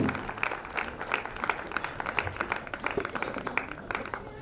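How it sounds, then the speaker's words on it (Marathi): A gathering at a ceremony honouring mothers claps to welcome an elderly guest. The applause is moderately soft and somewhat distant, with individual claps standing out in an uneven patter throughout. "त्यांचे टाळ्या वाजून एकदा आपण स्वागत करूया"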